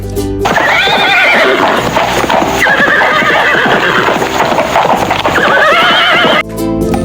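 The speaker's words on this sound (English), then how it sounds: "Horse." A horse whinnies loudly and at length, its shrill neigh rising and falling, with hoof clip-clops underneath and no voices.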